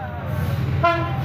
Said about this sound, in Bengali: ট্রেন আসছে, ট্রেন আসছে, ইয়া রাসূলুল্লাহ।